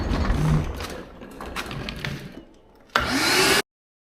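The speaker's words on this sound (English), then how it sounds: "Let's get this vacuumed up. Sorry for the noise." Vacuum cleaner sucking up ash inside a pellet smoker during cleaning, a loud rough whooshing drone with clattering debris, dipping briefly then surging in a harsh burst before cutting off abruptly.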